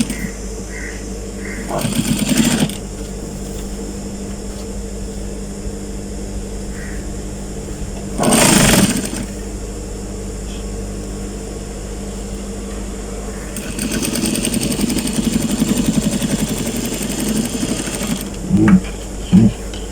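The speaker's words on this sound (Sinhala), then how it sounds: "ස්ටිප් එක ගානටම ස්ටිප් එකට යටින් උන් මහගෙන යන්න." A sewing machine stitches elastic shorts in short bursts: a quick run, a pause, another brief burst, then a longer run of whirring stitching with a soft background hum between.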